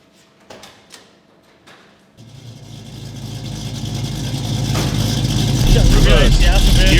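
A V8 American muscle car engine starts up and pulls away, its rumble building steadily and growing louder after a few quiet clicks and knocks at the start.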